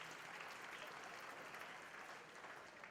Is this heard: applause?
yes